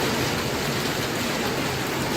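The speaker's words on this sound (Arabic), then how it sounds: "بتشتي حتت تلج، في حتت تلج بتنزل" Heavy rain mixed with falling hail, a dense, steady hiss pattering on surfaces close by, continuous and loud with no voices.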